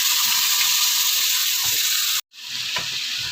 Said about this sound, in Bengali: ভালো করে নাড়িয়ে নিচ্ছি সবজিটা, নাড়িয়ে আমি ঢেকে রেখে দেবো।